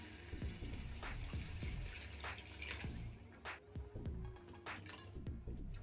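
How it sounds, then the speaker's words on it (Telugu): Water being poured into a pan of stuffed brinjal and green chilli curry, a close splashing, dripping pour with a brief hiss and a few clinks, alone without talk. "ఇప్పుడు ఇందులో వాటర్ వేసుకున్నాము."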